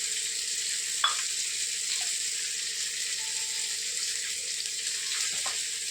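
Ginger garlic paste frying in hot oil, a steady bright sizzle close up with a couple of faint clinks of a utensil against the pan.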